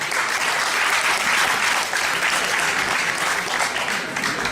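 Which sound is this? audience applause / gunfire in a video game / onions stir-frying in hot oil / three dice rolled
audience applause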